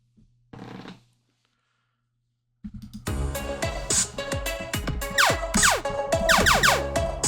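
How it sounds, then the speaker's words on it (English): A short blip, a pause, then upbeat game music with quick descending zap sounds fired repeatedly over it. "use this music file for music for the game and this sound for firing"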